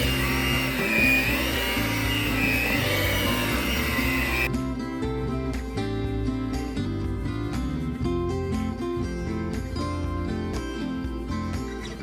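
An electric mixer whirs steadily through banana nut bread batter for about four seconds, loud and close, then cuts off as music carries on.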